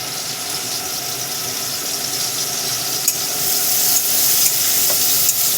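Finely chopped onions sizzle in hot oil in a pan for a Bengali rui posto fish curry, a steady bright crackling hiss with a few soft clinks of stirring.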